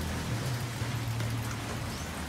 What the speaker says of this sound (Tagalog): Umulan guys.